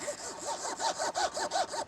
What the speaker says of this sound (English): this allows me to keep the mother of pearl in place whilst I'm sawing